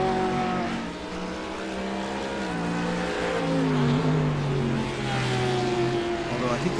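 Several GT3 race cars scream around Laguna Seca in a racing video game. Their engine notes overlap and rise and fall in pitch as they shift and accelerate, fairly loud throughout.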